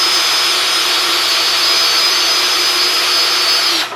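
A steady, loud high-pitched whine of a power drill running continuously with a 45/64 bit, cutting off abruptly at the end.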